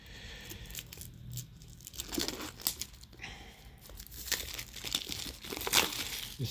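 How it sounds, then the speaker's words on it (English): Plastic casing being pulled off a Huawei Watch Pro 4 box, close crinkling and crackling in irregular bursts with small taps and rustles, fairly quiet and without talk. "So let me remove the plastic casing."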